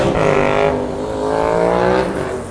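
Motorcycles pass along a street in Podgorica, Montenegro, with a loud, close engine roar that rises and fades across the whole stretch and continues without a break.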